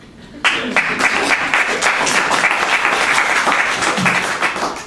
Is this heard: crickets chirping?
no